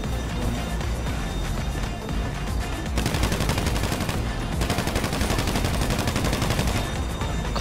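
Gunfire in the video game GTA V during a heist setup, a dense, continuous rattle of rapid automatic shots that grows busier and louder partway through.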